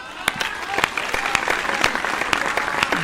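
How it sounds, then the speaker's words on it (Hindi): An audience at a poetry recital claps sparsely, sharp individual claps rising into a thin ripple of applause, with a voice speaking over it. "आपकी तालियां थोड़ी सी कमजोर हैं।"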